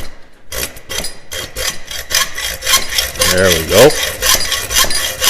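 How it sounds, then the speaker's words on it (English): Hacksaw cutting a metal bottle opener blank: a steady series of close, loud rasping back-and-forth strokes, a brief voice near the end. "this hacksaw doesn't like the forward cut"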